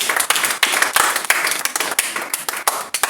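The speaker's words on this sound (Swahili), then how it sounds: "Give him a hand clap that is worth his glory." Loud, dense applause from a church congregation praising Jesus, many hands clapping steadily and continuously throughout, with no gaps.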